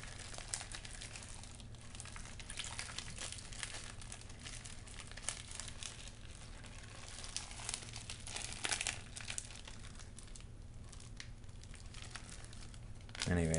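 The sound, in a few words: plastic bag crinkling while being rinsed out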